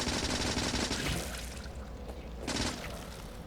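Factorio gunfire comes in two rapid, rattling bursts of automatic shots, a longer one at the start and a shorter one a moment later, fairly loud with no talk over it.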